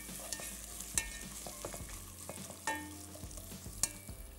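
Whole garam masala frying with onions in a pan: a quiet background sizzle broken by sharp metallic spoon clinks and scrapes against the vessel at irregular moments, close up with no voices.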